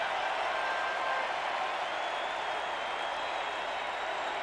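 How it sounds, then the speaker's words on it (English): A ballpark crowd at the 1991 World Series Game 7, Braves at Twins, applauds Kirby Puckett with a dense, steady roar of clapping and cheering that fills the whole stretch at an even, sustained level. "they applauded long and loud last night for this fella, and they're doing it again"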